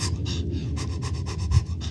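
A man imitates Lamaze labor breathing, a string of about ten quick, rhythmic panting breaths, close and fairly loud, with no words spoken.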